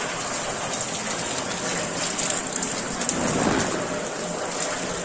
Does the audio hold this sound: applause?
no